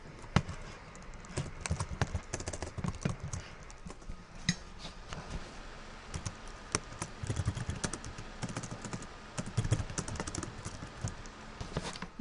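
Rapid, irregular clicking of keys on a computer keyboard, with dense clacks running steadily throughout, fairly close and alone with no talk.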